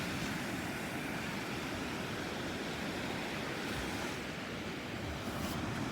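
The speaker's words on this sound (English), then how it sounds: "waves going in all directions" Big ocean waves break and wash in from several directions at a beach near a stone jetty over a flooded sandbar, a steady, loud, full surf roar with wind buffeting the microphone and no voices.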